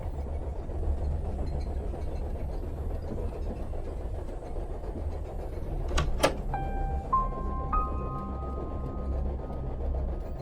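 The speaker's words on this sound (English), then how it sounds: "The train's picking up speed." A train gathering speed in the horror adventure game The Charnel House Trilogy, a steady low rumble and rattle throughout, broken near the end by a couple of sharp clicks and a string of electronic tones.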